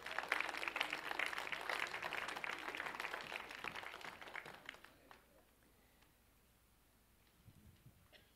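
A church congregation claps hands together, a dense burst of applause that fills the first five seconds and then drops away to near quiet with a faint murmur at the end.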